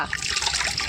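Water is poured in a steady, close splashing rush that fills a brief moment without pause.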